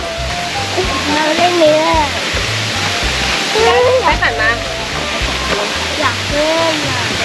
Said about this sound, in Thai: ถึงแล้วค่ะท่านผู้ชมจุดแรกที่เรามานะคะ ก็คือน้ำตกทานน้ำใส